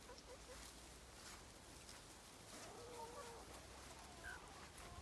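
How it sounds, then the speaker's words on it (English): Farm chickens clucking faintly and intermittently at a distance, with brief higher calls over a steady outdoor background hiss. "chickens live and have lived for 10 years."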